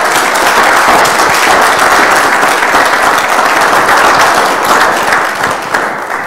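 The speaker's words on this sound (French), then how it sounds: "est-ce qu'on peut applaudir encore" Loud, sustained applause from an audience at a business talk, with dense clapping from many hands filling the room close up and steady throughout, no voices over it.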